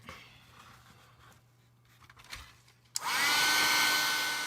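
A heat tool switches on abruptly to heat-set embossing powder on black cardstock, a loud steady blowing whir that follows a few seconds of quiet handling noise.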